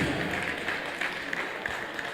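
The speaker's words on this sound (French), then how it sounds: "On applaudit pour le président, s'il vous plaît." Steady applause from the crowd at a boxing fight night, honouring the president of the Cameroonian boxing federation; a moderate, even wash of clapping throughout with no break.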